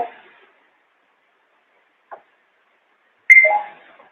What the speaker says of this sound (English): nice red light when I do it, and a beep.